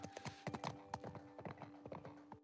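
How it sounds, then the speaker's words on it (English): Horse hooves clip-clopping in The Last of Us video game, a steady run of hoofbeats at a brisk rhythm, moderately near, with a faint constant tone underneath. "we make it outside and manage to get onto a horse"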